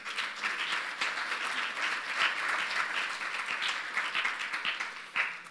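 A church congregation applauding, a dense, even patter of many hands clapping at moderate distance that continues steadily for several seconds, with one sharper clap near the end.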